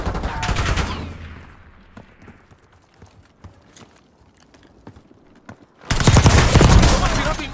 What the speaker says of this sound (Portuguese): Estão atirando em mim aqui.